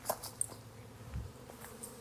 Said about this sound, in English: I think it's jammed full of bees.